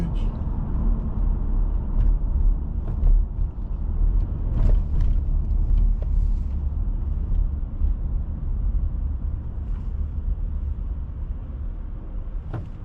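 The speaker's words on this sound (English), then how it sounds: "Traffic in the park." Steady road traffic rumbles near Flushing Meadows-Corona Park in New York City, a continuous loud low drone of passing vehicles heard from inside a moving car, with occasional louder passes.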